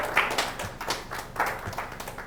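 A church congregation claps in praise during a Spanish-language service, a loose, uneven spatter of hand claps in irregular bursts, fairly close and without speech.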